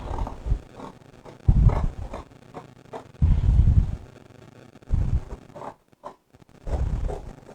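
Fabric for a curtain tie-back is cut with scissors in several loud, close bursts of rough snipping and rustling, with short pauses between the cuts.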